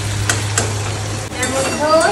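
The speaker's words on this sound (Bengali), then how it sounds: "এবার টমেটোটা দিয়ে দিই, পেঁয়াজ ভাজা ভাজা হয়ে গেছে" Onions and tomato frying in mustard oil in a pan, with a loud, close sizzle and busy stirring scrapes running throughout.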